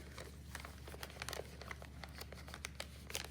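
Paper being creased and folded into an origami gift box, giving soft, close crinkles and short rustling bursts in an even, steady run.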